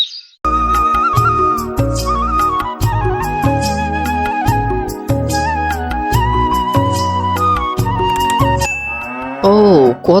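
Cartoon cows lowing at a cattle market for Eid sacrifice, loud repeated drawn-out moos layered over one another, with a musical whistle-like sound near the end.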